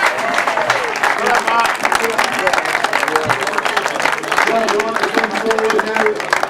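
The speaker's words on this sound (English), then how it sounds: "And a big cheer from Matt Reed." A crowd at a grasstrack race claps and cheers steadily for a rider, the applause dense and continuous while someone talks over it on a public address.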